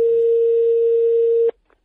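Telephone line tone before a call is answered, a single loud steady tone that holds for about a second and a half, then cuts off abruptly into near silence.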